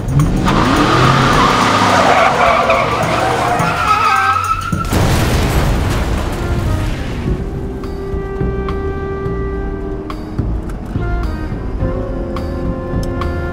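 A car with its brakes cut skids loudly, its tires squealing in a long, harsh screech over roaring engine noise. The sound then drops into a rumbling, clattering tail.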